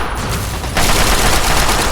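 Turrets fire in Fallout 3 amid explosions, a loud, dense, continuous burst of gunfire that grows heavier partway through, close and filling the whole moment without talk.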